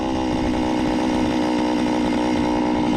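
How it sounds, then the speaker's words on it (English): A steady, loud mechanical drone of a motorized auger grinding through ice to set a gillnet, running continuously without pause and with no voices. "Okay, folks, we're gonna continue drilling."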